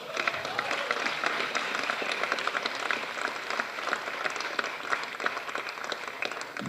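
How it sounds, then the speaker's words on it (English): A crowd applauds at the first look launch event for the film 83, dense sustained clapping that stays loud and even throughout, with no one speaking. "That's an applause that's coming to him decades later"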